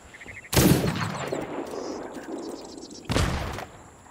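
Two heavy cannon booms in the video game Sea of Thieves, fired at a ship, the first followed by a long rumbling tail and the second about two and a half seconds later, with faint background sounds.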